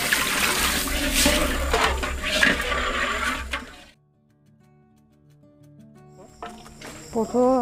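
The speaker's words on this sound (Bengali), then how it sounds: "খিচুড়ি জল দিবেছি" Water pours in a loud, steady rush into a pot of khichuri, a Bengali rice-and-lentil dish, for about four seconds, then stops, leaving faint kitchen clatter and a short sound near the end.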